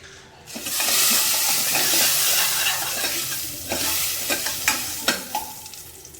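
Fennel powder and a couple of kalpasi (stone flower) pieces crackle in hot oil in a pan, a steady close sizzle with scattered sharp pops and light stirring scrapes toward the end.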